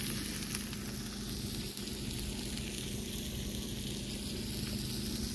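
Food sizzling on a Blackstone griddle at a desert boondocking camp, a steady, close crackling hiss that runs throughout with no pause.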